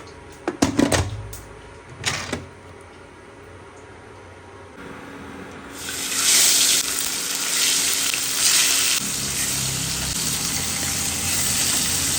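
Fish frying in oil on a home kitchen stove, with a steady hissing sizzle that swells loud after a few clattering knocks at the start and holds for several seconds.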